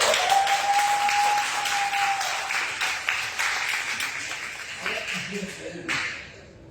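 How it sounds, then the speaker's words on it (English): Audience applause at an evening speaking-club installation event, a dense wash of clapping that fades gradually toward the end, with a brief whistle-like tone near the start and some voices mixed in. "Let's big round of applause for our speaker"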